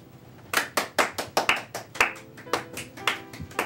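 A small audience claps for a reverend guest introduced on a local show, with distinct separate hand claps in an uneven, fairly sparse rhythm, close and moderately loud, with no talk.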